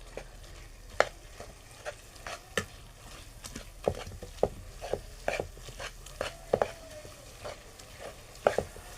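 Pav bhaji vegetables are mashed with onion in a pan, giving repeated irregular soft thuds and scrapes over a low sizzle, close and moderately loud.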